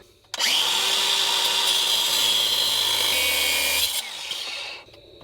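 A power saw cuts through a short hydraulic hose on an excavator, giving about four seconds of loud, steady buzzing that then drops in pitch and winds down to quiet.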